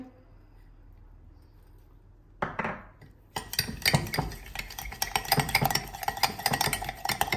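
A spoon stirs sugar and black salt into aloe vera juice, clinking and scraping steadily against the glass after a quiet start, with a few brief clatters first.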